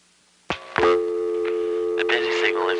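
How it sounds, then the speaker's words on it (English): NX1 crossbar telephone exchange in Greenville, North Carolina: after a few clicks a steady, loud, harmonically rich dial tone starts and holds on to the end, with a voice talking over it. "Now I'm going to let dial tone time out."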